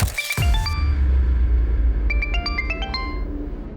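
A phone ringtone plays in short repeated melodic bursts of bright tones, heard near and loud over a low rumbling background, with a pause between two ringing phrases.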